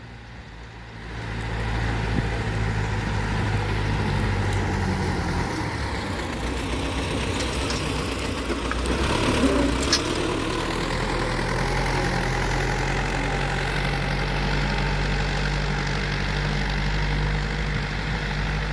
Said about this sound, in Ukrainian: Дивіться, як гарно вміє тракторист зорювати мій город.